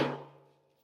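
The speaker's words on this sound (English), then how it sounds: "Here's hammering on the table." A single hammer blow lands on a table in a makerspace, a short knock with a lingering, fading ring.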